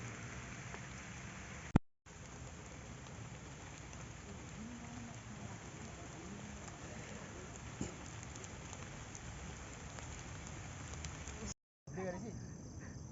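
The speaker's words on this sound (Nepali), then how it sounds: "गाइज पानी पर्दैछ" Light rain falling steadily in the forest of Shivapuri National Park on a hiking trail, a faint, even hiss with soft scattered drops and no voices.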